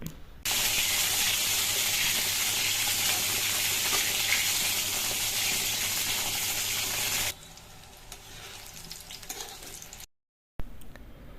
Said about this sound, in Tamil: எண்ணெய் விட்டு இந்த கத்திரிக்காயை போட்டு நல்லா வதக்கி எடுத்துக்கலாம்.